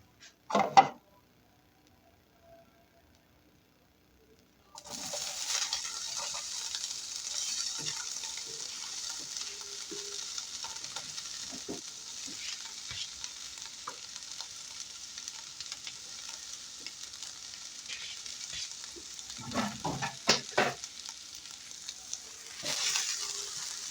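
Oil sizzles steadily in a pan on a stovetop, a continuous hiss lasting nearly twenty seconds after a short quiet start, with a few louder clattering stirs near the end.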